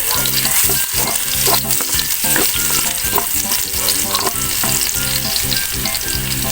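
Garlic fries in a pan for squid adobo, a loud, dense, continuous sizzle with constant stirring and scraping of a utensil against the metal.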